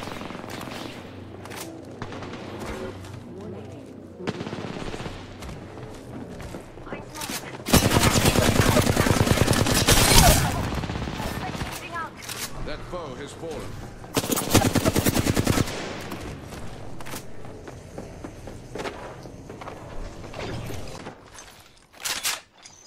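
Bursts of automatic gunfire in the Apex Legends video game, loud rapid volleys in two main stretches amid quieter game ambience and scattered mechanical clicks.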